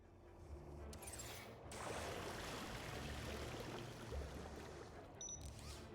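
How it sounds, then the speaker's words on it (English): A machine in Beyond A Steel Sky sprays water in a steady hissing, gushing stream that fills the whole stretch, broken by brief mechanical clicks and chirps near the start and end. "Commencing spray. Please stand back."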